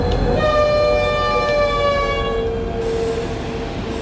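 A locomotive Makrofon horn from Train Simulator 2020, sounded on a heavy freight train over the Semmering, gives a sustained multi-tone blast lasting about two and a half seconds above a steady rumble of engine and rail noise.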